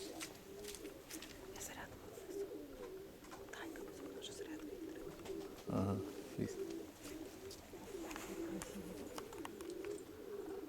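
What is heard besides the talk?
pigeons cooing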